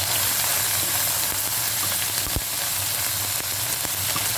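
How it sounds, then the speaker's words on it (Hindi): Tomatoes and onions sizzle steadily in hot tempering oil for a baghar, a dense, continuous close-up frying hiss that holds an even level throughout, with no voices. "ये समझिए बघार हो रहा है"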